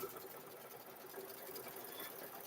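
A sewing machine stitches a cow-themed quilt in a steady, continuous whir that runs unbroken at moderate level throughout, with no talk over it.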